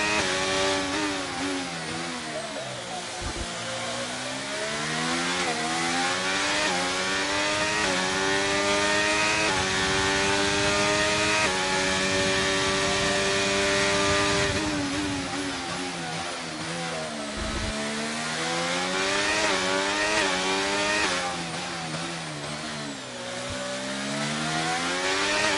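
A race car in a racing video game at the Baku circuit screams through a full lap, the engine climbing through gears in repeated rising sweeps with brief dips on downshifts, loud and continuous with no talk.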